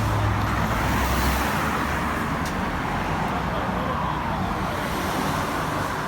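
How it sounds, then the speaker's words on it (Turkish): The Turkish prime minister's car sweeps past quickly on a road, a steady broad traffic rush with a heavier low rumble at the start, under voices talking nearby. "Başbakan arabası geçiyor."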